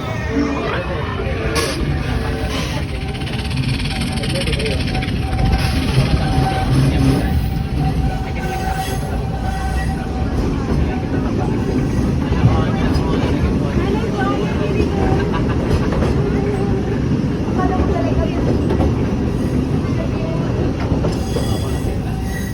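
Aboard the Walt Disney World Railroad train in Magic Kingdom, a constant rumble of rolling wheels with occasional squeals and clatter continues beneath a narrating voice.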